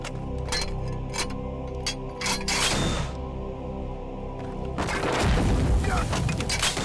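Mortar shells burst in a war film about fighting the Japanese, with heavy booming explosions over scattered gunshots, a large roaring blast arriving near the end, loud and close, with voices briefly heard.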